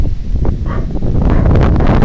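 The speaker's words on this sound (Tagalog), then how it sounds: "Sarap ng hangin din sa kabukiran." Gusts of wind in open farmland buffet the microphone in a loud, rumbling rush, with faint rustling mixed in over a couple of seconds.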